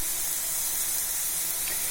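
Onions sizzle in a pan at the start of cooking for vegetable lasagna, a steady, even hiss that stays close and constant without pauses.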